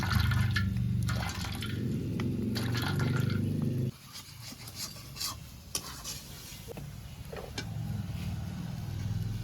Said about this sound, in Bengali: এই ছাঁকনির মধ্যে আমি দুধটা বের করে নেব তারা চেপে চেপে দুধটাকে বের করে নিচ্ছি